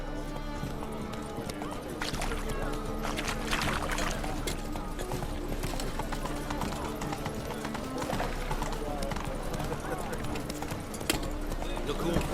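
A horse's hooves clip-clop at a steady pace in The Witcher 3, mixed with game ambience and a faint voice in the background throughout.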